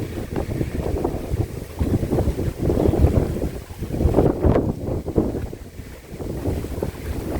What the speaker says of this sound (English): The wind is a constant presence here.